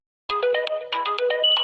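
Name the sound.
mobile phone ringtone ringing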